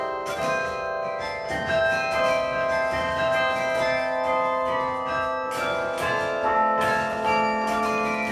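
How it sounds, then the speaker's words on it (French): Carillon bells of Taninges ring out a melody, sustained overlapping tones chiming steadily and clearly. "Des sons très célèbres peuvent être joués au carillon,"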